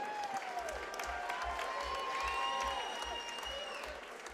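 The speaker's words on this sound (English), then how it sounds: "a round of applause for these two fighters" Audience applause and crowd noise fill an arena after a mixed martial arts bout at a Chosen Few Fighting Championship event, steady and loud throughout, with tonal music-like sounds running underneath.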